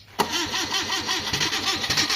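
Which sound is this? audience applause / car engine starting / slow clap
car engine starting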